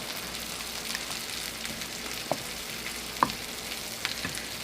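Meatballs frying in a pan with fresh basil and parsley, a steady low sizzle underneath with a few soft clacks of a utensil stirring, fairly quiet and close, no voices.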